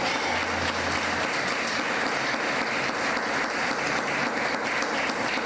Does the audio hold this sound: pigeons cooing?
no